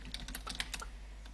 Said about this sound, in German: Kann man meine Tastatur hören?